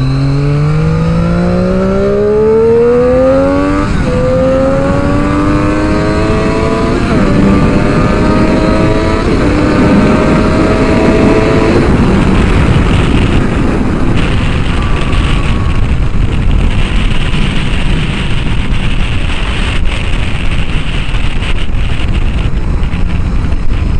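A new motorcycle riding at speed, its engine climbing through rising revs and gear changes before settling into a loud steady drone under heavy wind rush, close and continuous throughout.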